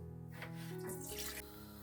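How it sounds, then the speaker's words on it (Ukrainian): Water pours and splashes steadily from a saucepan into a sink, a continuous rushing flow with a hollow metallic ring. "Тепер я зливаю оцю водичку, каструлю."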